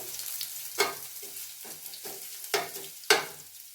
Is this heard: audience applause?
no